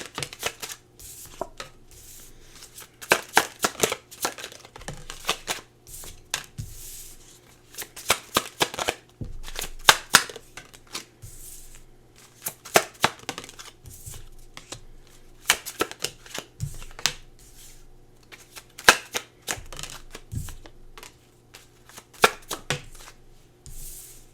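Tarot cards being shuffled by hand, heard as repeated close, papery riffles and slaps that recur in quick irregular clusters, with no break across the whole stretch.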